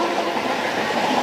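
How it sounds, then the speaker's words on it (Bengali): Train rolling past with a steady, continuous rumble and rattle of rail cars, broadband and even throughout, fairly close, with no voices. "ট্রেন দেখছে, ট্রেন যাচ্ছে, যাক না"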